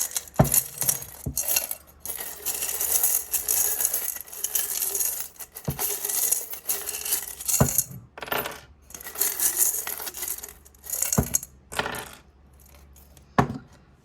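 Dice are rolled during a tarot and charm reading, making repeated bursts of hard clattering clicks and rattles across about fourteen seconds, close by, with quieter gaps between throws and no talking.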